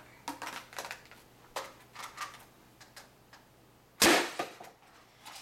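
A modified ERTL toy pump action shotgun is worked and fired, with faint plastic clicks and rattles from loading a dart, then one sharp close snap of the shot near the end.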